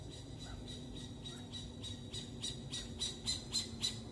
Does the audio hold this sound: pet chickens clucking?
no